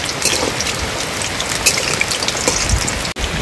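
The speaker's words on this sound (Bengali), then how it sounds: "বাইরে ঝড় বৃষ্টি শুরু হয়ে গেছে।" Steady, dense storm rain pattering on surfaces outside, with scattered louder drops through the hiss and a brief dip near the end.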